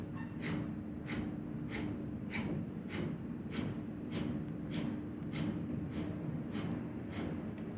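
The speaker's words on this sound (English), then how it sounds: "Inhale in through the nose. Exhale to begin." Slow, steady breaths drawn in and pushed out through the nose during a yoga practice, about a dozen soft, evenly spaced airy pulses, close and alone without talk.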